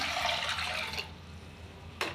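Water poured into a cooking pan while making a cluster bean stir-fry, a short steady splashing stream that stops after about a second, followed by a brief second splash, faint and with no voices.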